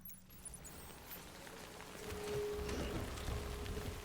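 Steady rain in the video game Death Stranding, a constant hiss of drops on surfaces that swells slightly louder halfway through, with no talk over it.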